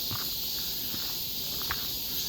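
Cicadas drone steadily in a forest along a long stairway trail, a continuous high buzzing filling the air, with soft scattered footsteps or rustles underneath.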